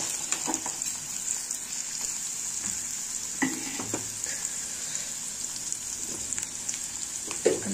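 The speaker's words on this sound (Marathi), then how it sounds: "कांदा परतवायला ठेवलेला आहे।" Onion sautéing in a pan sizzles steadily and close up, with occasional stirring scrapes breaking through the continuous frying hiss and no talking.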